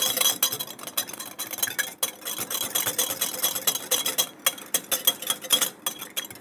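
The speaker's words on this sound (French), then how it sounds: "nous allons mélanger l'œuf, le sel, le poivre et le jus de citron" Egg, salt, pepper and lemon juice being mixed in a bowl at the start of an emulsion, with a utensil clinking and scraping against the bowl in a quick, steady rhythm, close up and without talk.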